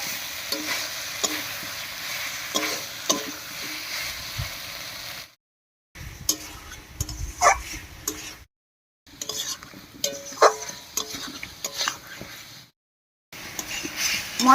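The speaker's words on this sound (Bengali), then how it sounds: "এবার এর মধ্যে দেবো ভেজে রাখা আলু আর পটল। এবার মশলার সঙ্গে খুব ভালো করে মিশিয়ে নেব।" Fried potatoes and pointed gourd are stirred into spiced oil in a pan, a constant close sizzle broken by scraping spatula strokes and clinks, with short gaps of silence between bursts.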